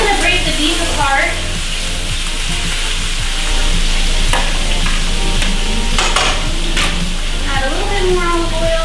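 Beef and chorizo sizzling and frying in olive oil in a pan while being stirred and broken apart, a steady loud crackle with scraping strokes throughout and a voice speaking at points.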